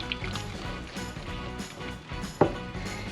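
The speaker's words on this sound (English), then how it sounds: "I'm gonna whisk it at the same time" Batter with flour is whisked in a bowl, giving a wet, rhythmic sloshing and scraping that repeats steadily and close, with one sharper knock near the end.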